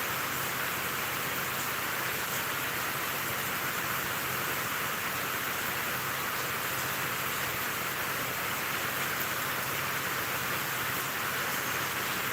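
Heavy rain falls as a steady, unbroken hiss that fills the whole stretch at an even loudness, with no voices.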